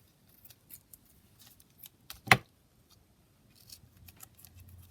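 A pair of scissors snips once through a piece of lace, a single crisp cut in an otherwise quiet room with faint rustling before and after.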